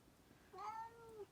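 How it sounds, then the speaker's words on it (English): A cat gives a single rising-and-falling meow, faint and somewhat distant against a quiet room. "Ignore the cat."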